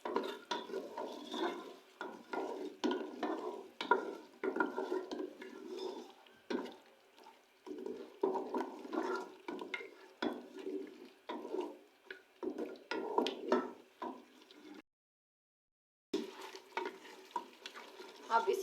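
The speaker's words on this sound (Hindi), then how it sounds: "अब इन गरम मसालों को हम अच्छे से मिक्स करेंगे।" Garam masala, cumin and crushed coriander being stirred into a pot of deghi korma, a steady scraping, churning stir over a soft sizzle with clinks of spoon against metal, continuous and close.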